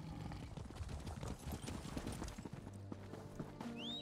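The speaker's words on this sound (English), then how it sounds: "why did I have to get off my horse just to go?" Horse hooves clip-clop in a steady walking rhythm in the video game Elder Scrolls Online, mixed with game music and ambient sound, with a short rising chime near the end.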